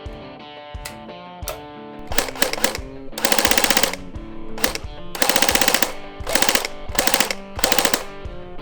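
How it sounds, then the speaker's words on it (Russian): Full-auto bursts from a Snow Wolf airsoft AUG A2 electric rifle, several rapid rattling strings of shots separated by short pauses, close and loud over a faint mechanical hum. "При зажатии до конца привод дает очередь"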